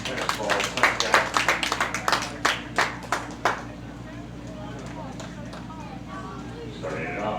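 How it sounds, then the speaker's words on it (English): Scattered applause for the pitching staff at a Hamilton Joes versus Licking County Settlers baseball game: a dozen or so separate, sharp claps from a small group, thinning out after a few seconds and leaving quiet ballpark ambience. "Give our pitching staff a round of applause"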